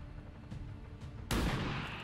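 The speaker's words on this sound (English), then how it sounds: "I'm gonna have you shoot." A single loud burst of gunfire from a soldier unit in the video game XCOM 2, striking sharply after a quieter stretch and trailing off over the next moment.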